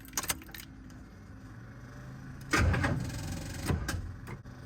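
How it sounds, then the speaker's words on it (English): Keys jangle in short metallic bursts near a 1987 Buick Grand National Turbo T, followed by a louder thump and rustle like a car door or seat movement, close and with no talk. "Let me grab my keys"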